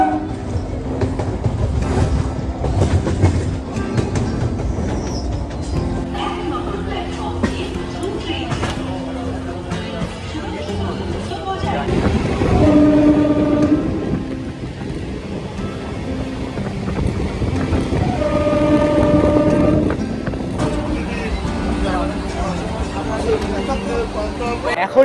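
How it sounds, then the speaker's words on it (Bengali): A crowded early-morning Bongaon–Sealdah local train pulls in and runs past, a loud, continuous rumble with rattling wagons and wind buffeting that swells toward the middle and end. Heard up close from the platform. "এই যে বলতে বলতে কিন্তু দিয়ে দিয়েছে আমাদের ট্রেন"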